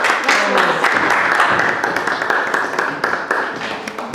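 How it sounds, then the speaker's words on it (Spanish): Audience applause at a justice forum in Mexico, welcoming a speaker to the podium: dense, steady clapping from a crowd filling the room, loud and sustained throughout. "Ruego que le demos un aplauso de bienvenida a Eduardo Santillán Pérez."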